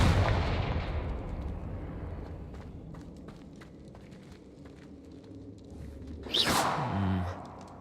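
A Confringo fire spell blasts off in the Hogwarts Legacy video game, a loud burst with a whooshing rise that falls to a rumbling boom and crackle, set over a steady low game ambience.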